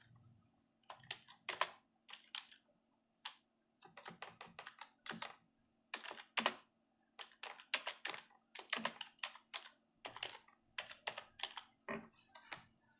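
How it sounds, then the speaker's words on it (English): Typing on a computer keyboard while entering table fields in Microsoft Access, with bursts of quick key clicks separated by short pauses, close and clear, no talking. "So let me write down here roll number of student."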